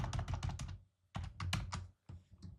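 Rapid keystrokes on a computer keyboard come in two close bursts of busy, clattering typing with a brief pause between, followed by a few lighter taps.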